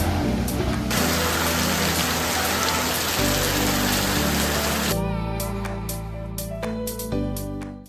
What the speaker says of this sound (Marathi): मस्त पाऊस पडतोय, मुसळधार पाऊस पडतोय